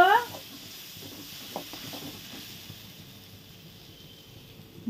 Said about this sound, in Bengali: এখন আবার নেড়ে দিব, ঝোলটাকে শুকিয়ে নিব